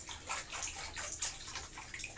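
Coarse salt is stirred into water, a soft, continuous sloshing swirl with faint granular scraping. It sounds close and quiet, with no talk.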